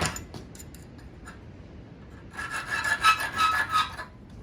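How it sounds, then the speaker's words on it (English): A half round file rasps across the edge of a hand-forged steel screwdriver bit in a short burst of dry, scratchy strokes near the end, after a few faint scrapes and taps. "I'm gonna take my half round file, the round portion facing our bit. I'm gonna just chamfer that edge."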